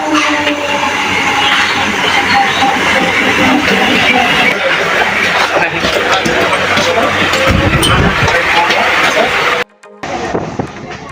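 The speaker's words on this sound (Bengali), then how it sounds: "আমাদের ট্রেনটা ঢুকে গেছে তারকেশ্বর হাওড়া" Tarakeswar–Howrah local train pulling into a station, a loud continuous rumble and clatter of rail cars with platform crowd noise, running steadily for about ten seconds before cutting off abruptly.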